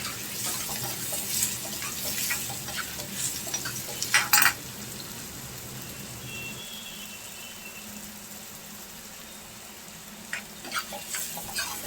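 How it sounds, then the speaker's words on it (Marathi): Chopped onions sauté in a pan for a butter cheese egg bhurji, a steady close sizzle with occasional stirring scrapes and utensil clinks, no voices. "कांदा आपला मस्त परतून होत आला थोडा बहुत"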